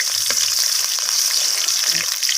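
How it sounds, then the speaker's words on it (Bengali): Garlic sizzling steadily in hot oil as a tempering for dal, with a bright continuous crackle and a few soft stirring knocks, close and loud, without talk. "সেই রসুনটা আমি তেলের মধ্যে দিয়ে দিলাম"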